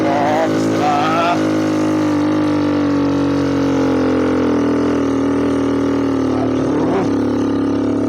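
A motorcycle engine drones loudly and steadily, straining up a very steep hill on the road toward Jember, close up and constant throughout, with a rider's short exclamations near the start and again near the end.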